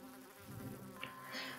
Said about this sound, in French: On a trouvé l'abeille-coptère,